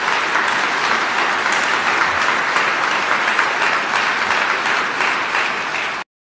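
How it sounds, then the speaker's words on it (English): A large audience applauds at a US Army general's retirement ceremony, a dense, steady wash of clapping that stays loud and even before stopping abruptly. "Big round of applause for the Sergeant Major of our Army."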